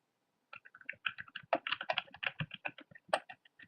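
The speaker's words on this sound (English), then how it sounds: "that's why you hear typing in the background" Quick typing on a computer keyboard, close and fairly quiet, with irregular bursts of clicking keystrokes and a few louder presses, no talking.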